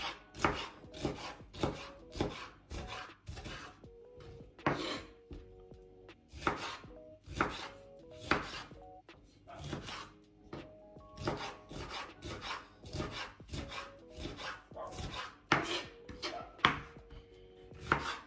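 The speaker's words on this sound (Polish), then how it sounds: "Paprykę. Jakąś tam drobną kostkę." Bell pepper being chopped into small dice with a knife on a cutting board, steady quick taps with brief scraping between, close and fairly quiet, with a faint musical background.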